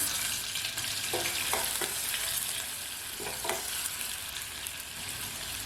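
Crushed ginger and garlic hit hot ghee with spluttering cumin and mustard seeds, giving a steady loud sizzle with a few soft stirring knocks against the pan, no voices.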